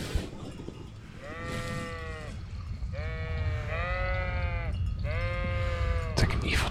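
Sheep in the medieval video game Kingdom Come: Deliverance let out several long, wavering bleats in a row. The calls are loud against a steady background of ambient game noise.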